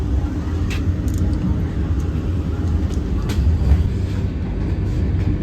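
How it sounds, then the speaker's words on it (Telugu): A Vande Bharat express train runs near Penukonda on the Bengaluru–Hyderabad line, giving a steady, loud, continuous rail rumble with faint high clicks and no pauses. "ప్లస్ మన ట్రైన్ పెనుగొండ కూడా క్రాస్ చేస్తుంది ఇక్కడ నుంచి"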